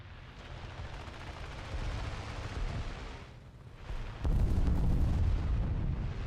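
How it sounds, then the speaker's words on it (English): Bombs explode in a World War II video game, making a continuous heavy rumbling roar that dips briefly, then surges into a louder, sustained barrage of deep blasts. "That was a lot of bombs."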